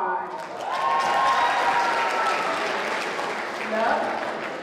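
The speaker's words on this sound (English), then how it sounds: "you're going to have to clap for this one" Crowd at a school lip sync battle clapping loudly to vote for a contestant, a sustained wall of applause mixed with cheering voices that swells, dips slightly and rises again.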